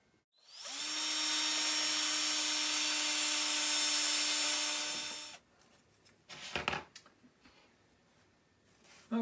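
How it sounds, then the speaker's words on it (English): A power drill bores a hole into a large model tree, whining steadily and loudly for about five seconds before it stops. Softer handling knocks and rustles follow. "we're going to start with drilling a hole and trimming it up."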